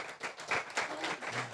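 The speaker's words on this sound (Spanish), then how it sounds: "Denle un fuerte aplauso al Señor porque lo veo." Church congregation applause during a Spanish-language service, a brief burst of scattered clapping, faint and somewhat distant.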